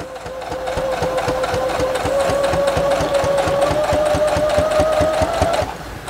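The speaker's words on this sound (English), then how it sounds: "technically it is back stitching. You know, you're double stitching over a location just to provide strength there." A sewing machine back stitches over the corner of a fabric pillow, its rapid, even needle hammering loud and close for several seconds before stopping abruptly near the end.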